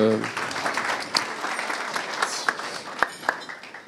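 An audience applauds at a networking forum, steady clapping that fills the whole stretch at moderate distance, with a few sharper claps standing out and a voice speaking over it.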